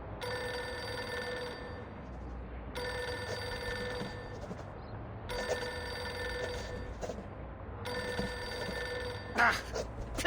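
A telephone ringing in a video game, an electronic bell ringing in repeated bursts with short pauses between them, steady and clear over a low background hum.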